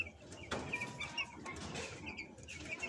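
Young chicks chirp and peep from inside cardboard delivery boxes, a busy overlapping chatter of high calls with a few louder cheeps and faint shuffling, fairly close.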